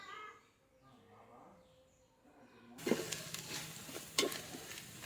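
Chicken masala, chilli, coriander, garam masala and turmeric powders sizzle in hot oil for a Kerala-style chicken curry, quiet at first, then louder frying and crackling with scraping stirs partway through.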